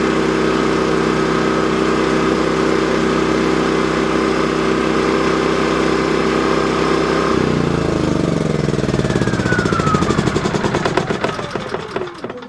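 A Champion 3400-watt dual fuel generator engine runs loud and steady up close, then is switched off, its drone winding down and fading to stillness near the end.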